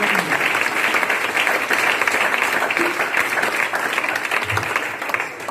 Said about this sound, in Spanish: Un aplauso para el Señor en esta hora.